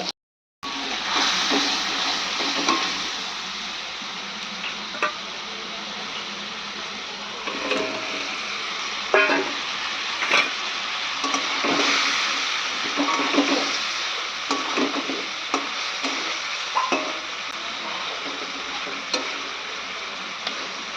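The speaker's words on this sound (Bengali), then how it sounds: "কাতলা মাছটা ভাজা হচ্ছে এখন" Katla fish pieces frying in a pan in a Bengali village kitchen, a steady crackling sizzle with scattered ticks and pops running throughout, close and moderately loud, with no talking.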